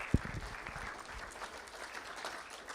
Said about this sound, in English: Let's give our coaches a round of applause for winning their awards.